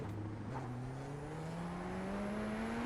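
A race car engine in iRacing drones steadily, its pitch climbing gradually as it accelerates, heard alone at a moderate, even level.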